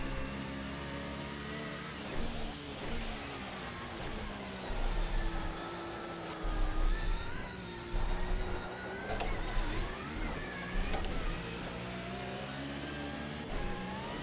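A Porsche race car engine in a sim racing game drones steadily at moderate distance, its pitch rising and falling through gear changes with surges of revving, with no voices.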